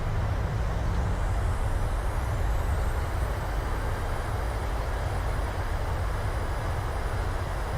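Reverse thrust roar from a PMDG Boeing 737-700 landing at Wellington International Airport in the MSFS video game: a loud, steady, broadband engine rumble with heavy low end, sustained throughout without pause.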